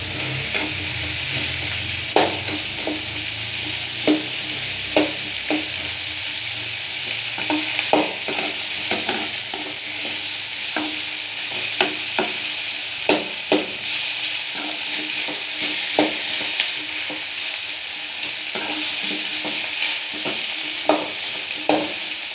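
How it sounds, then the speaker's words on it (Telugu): Onions and tomatoes frying in a pan with steady sizzling, broken by frequent sharp scraping taps as a spoon stirs them, close and even throughout with no voices. "ఇందులో ఫస్ట్ ఆనియన్స్ టమోటా వేయించి పెట్టాలి ఇలాగా"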